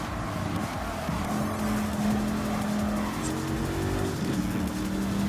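A tuned Viper race car's engine holds a steady, buzzing drone in Gran Turismo 7, rising and shifting in pitch through corners with faint tire noise underneath and no talking.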